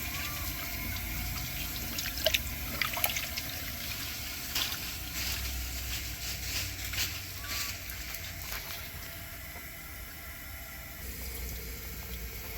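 A clogged 1957 Standard Cadet toilet flushes: rushing, gurgling water fills the bowl and drains steadily at close range, starting with a few sharp clanks and settling into a constant watery wash.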